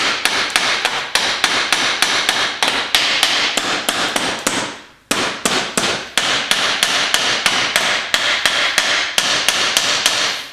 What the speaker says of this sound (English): Now I'm just going to tap the whole thing open.